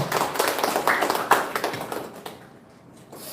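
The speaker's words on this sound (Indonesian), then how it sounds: "tepuk tangan untuk diri saudara sendiri" A church congregation clapping during a Christmas sermon, a short burst of scattered applause that fades out after about two seconds, followed by a few isolated claps.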